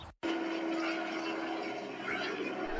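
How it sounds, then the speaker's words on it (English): A helicopter flies low overhead with a loud, steady rotor and engine drone that holds close and constant for a few seconds after a brief cutout at the start. "Look! There is a helicopter coming towards us."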